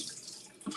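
Tap water runs while a cutting board is washed in a home kitchen, a short hissing splash with a brief knock near the end.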